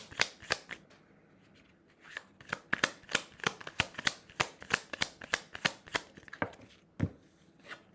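Tarot cards shuffled by hand for a reading, as a quick run of crisp, papery riffles and snaps. The rhythm is steady and close, with a short pause before a fast burst of shuffles.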